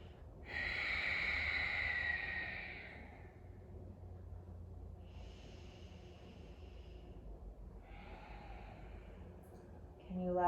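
Slow, deep breaths during a yoga relaxation, a long loud inhale-exhale near the start followed by softer, quieter breaths, with no talking.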